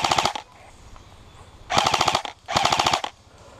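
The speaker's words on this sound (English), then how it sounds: "I didn't want to shoot you that close, but I gotta move." Three bursts of rapid gunfire during a team shooting game, fired close by: a short burst, a pause, then two longer volleys in quick succession, loud against a quiet background with no talking.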